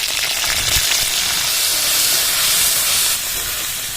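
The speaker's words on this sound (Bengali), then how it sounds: "তেলটা গরম হয়েছে টমেটো দিয়ে দেবো আদা বাটাটা দিয়ে দেবো একটু হলুদ দিয়ে দেবো" Tomato, ginger paste and turmeric hit hot oil in a village kitchen, giving a loud, steady sizzle and hiss that runs the whole time, easing slightly near the end.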